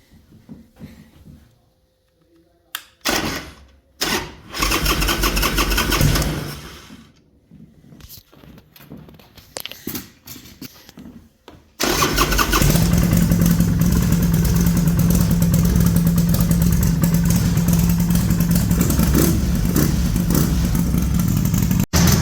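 Hammer 1275 Sportster motorcycle engine cranking with sputters and bursts of revving, then catching into a loud, steady, rumbling idle held close for about ten seconds.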